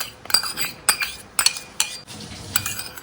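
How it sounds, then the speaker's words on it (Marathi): Samosa dough being mixed by hand in a bowl with ghee, oil, ajwain, salt and lukewarm water, giving close, intermittent clinks and scrapes in short bursts with no talking. "मिक्स करता हांव तें पीठ"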